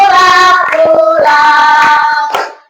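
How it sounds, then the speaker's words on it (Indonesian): Rhythmic hand clapping keeping time alongside loud group singing of a patriotic Indonesian song, sharp claps landing between sustained sung notes, close and prominent. "Sambil tepuk tangan."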